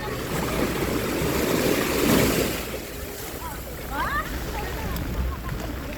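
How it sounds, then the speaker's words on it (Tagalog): Strong waves crash and wash continuously at the shore where people are swimming, a dense, loud roar with a swell near the middle, while faint voices come through underneath. "Lakas ng alon"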